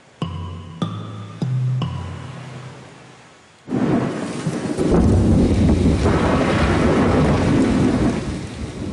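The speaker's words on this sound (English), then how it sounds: "A violent storm is pummeling the island." A violent thunderstorm pummels an island: after a few tonal notes, heavy rain roars in, with rumbling thunder and gusty wind building to a loud, dense, continuous downpour.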